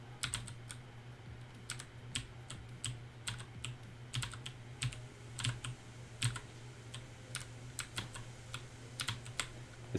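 Keys on a computer keyboard are struck in a loose, irregular run of crisp clicks, close and distinct, over a low steady electrical hum with no talking.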